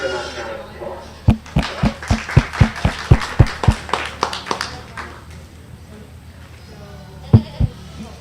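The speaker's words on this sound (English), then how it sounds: "Give her a nice round of applause." Applause for a goat in the show ring at a Defiance County junior fair goat show: a burst of sharp, close clapping over about three seconds that fades, with a voice speaking afterward and two more claps near the end.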